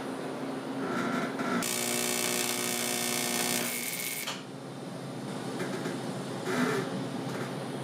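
A torch welds a thin metal cone piece for a 1976 Mazda RX-5 Cosmo restoration, giving a loud, steady buzzing hum that starts abruptly, holds for about three seconds and cuts off, with quieter workshop noise around it.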